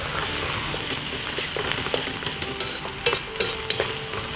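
Thai fried rice stirred and fried in a hot pan, a continuous sizzle broken by repeated scraping and clattering strokes, close and clear with no talking.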